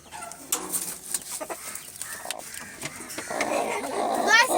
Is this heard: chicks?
yes